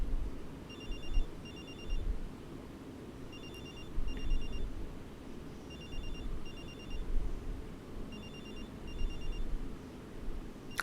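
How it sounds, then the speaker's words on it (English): Telephone ringing repeatedly in a drama scene, bursts of double rings repeating at a steady rhythm over low room hum, fairly faint, with no talk. "The phone just keeps ringing and ringing and ringing."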